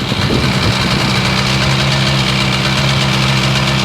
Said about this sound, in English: It's running up with the throttle position sensor hooked up